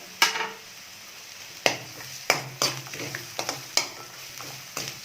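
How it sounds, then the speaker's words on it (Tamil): Coconut and tamarind sauté in a pan for a thogayal chutney, a faint low sizzle under sharp spoon scrapes and knocks against the pan at irregular intervals, with no voices. "தேங்காய் போட்டு கொஞ்ச நேரம் வதக்கிடலாம்."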